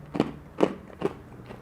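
Crunchy food being eaten, four close crisp bites or chews in a steady rhythm, each a short crackling burst with quiet between.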